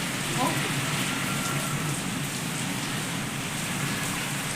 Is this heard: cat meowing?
no